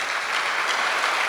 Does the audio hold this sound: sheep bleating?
no